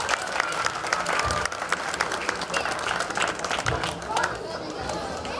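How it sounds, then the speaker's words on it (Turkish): Guests applaud at a family celebration, a lively mix of sharp claps and crowd chatter with a few voices rising through, fairly close and continuous. "Sedat abiye güçlü bir alkış yapalım"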